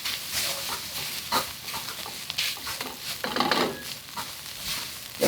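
Bacon sizzles in a pan as its fat renders, a soft steady crackle with scattered pops and spatters, quiet and close.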